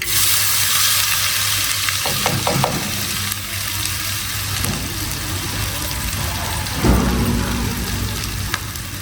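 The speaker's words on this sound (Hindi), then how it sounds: "थोड़ा सा मेथी दाना और थोड़ा सा जीरे के दाने, और अब डाल देंगे ये लहसुन प्याज अदरक" Garlic, onion and ginger hit hot oil with fenugreek and cumin seeds, giving a loud, steady sizzle of frying that stays dense throughout, with a few brief clinks of stirring midway.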